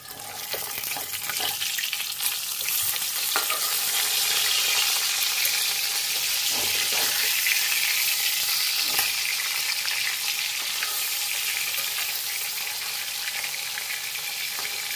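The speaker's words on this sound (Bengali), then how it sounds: "আর বাকি 3 পিস আমি অলরেডি ভাজতে দিয়ে দিয়েছি। সর্ষের তেলে করতে হবে" Three katla fish pieces fry in mustard oil for doi katla, a loud, steady close sizzle that holds unbroken for the whole stretch, with a few faint clicks and no talking.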